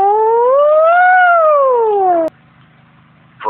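A singer's voice imitates a police siren as a vocal warm-up, one loud smooth rising-and-falling wail lasting about two seconds that cuts off abruptly, followed by a low hum and a brief vocal sound.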